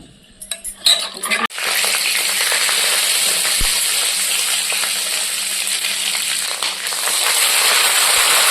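Dried red chili, bay leaf, onion and a five-spice tempering hit hot mustard oil, giving a loud, steady sizzle that starts abruptly after a brief clatter of utensils and holds for several seconds with no talking.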